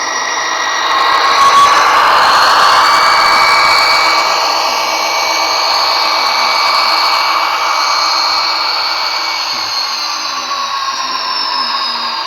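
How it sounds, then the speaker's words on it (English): A steady, loud diesel prime mover hum from an Athearn DCC sound-equipped model locomotive, droning continuously with a slight rise and fall in pitch. "DCC with sound, there's multiple prime movers on there"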